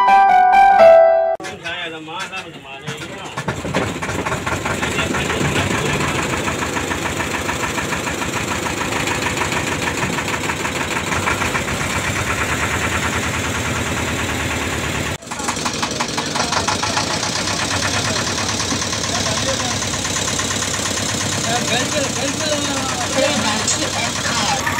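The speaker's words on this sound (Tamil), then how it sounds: "ஒரு வழியா அந்த படகு ஸ்டார்ட் பண்ணாங்க." A diesel boat engine on the Poolampatti boating lake runs in a steady, loud, rough drone after a brief starting clatter, with voices in the background.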